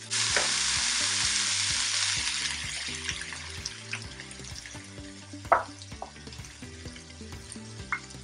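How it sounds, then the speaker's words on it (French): Onions frying and browning in a pan give a continuous dense sizzle, fading gradually, with a few sharp clinks of a utensil against the pan and music playing underneath. "On va laisser brunir les oignons."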